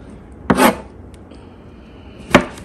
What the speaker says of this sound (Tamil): காளான் இந்த மாதிரி நாளாக கட் பண்ணி எடுத்துக்கலாம்